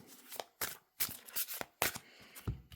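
Tarot and oracle cards shuffled by hand in a few separate bursts of papery riffling, close and fairly quiet, with short pauses between bursts and no talking.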